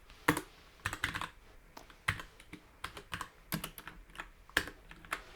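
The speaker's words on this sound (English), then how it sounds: "A nice healthy mix of copy paste and typing and pasting things out." Fingers type on a computer keyboard in steady, uneven bursts of close clicking keystrokes, heard alone without speech.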